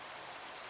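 Steady, even rainfall in a video game, a broadband hiss with no talk over it, heard for under a second.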